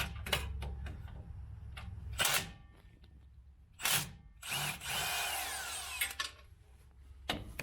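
Power tool working a bolt loose under a Ford F150 during rear parking brake cable replacement, heard in several short buzzing bursts of varying length separated by quiet gaps, fairly close.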